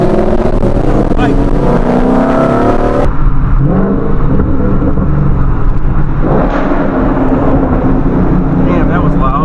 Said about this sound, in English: damn, that was loud. That was a 2010 Camaro SS of his older car.